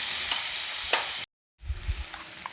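Onion, chopped capsicum and chopped tomato fry in a pan for a prawn kaliya, a constant crackling sizzle interrupted by a short silence, then resuming with low stirring thumps and scraping.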